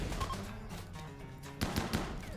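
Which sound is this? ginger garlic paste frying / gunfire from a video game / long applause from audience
gunfire from a video game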